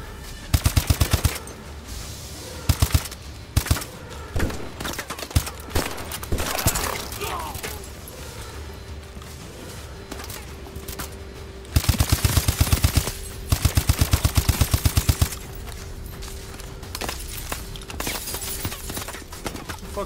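Automatic weapon fire in Call of Duty: Advanced Warfare, loud rapid bursts repeating in several clusters amid battlefield noise, with occasional single shots in between.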